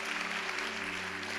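A church congregation applauds during a sermon, a dense, steady wash of many hands clapping, sustained and even through the short moment.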